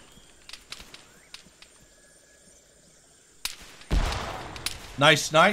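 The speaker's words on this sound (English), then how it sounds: "Shit, taking a lot of fire down that Holy hill." Heavy gunfire in the military shooter Arma 3: scattered sharp shots and distant cracks at first, then a loud close burst of rapid fire and bangs in the second half, with a brief voice over it.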